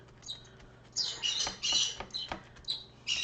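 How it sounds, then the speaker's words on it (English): Bright chirps and squawks of birds come in short bursts, fairly close, over a quiet background with no talking. "I hear birds chirping."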